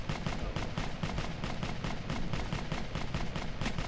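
Dense, continuous gunfire and explosions in the military shooter Operation Flashpoint: Dragon Rising rattle loudly without a break, with no voices heard.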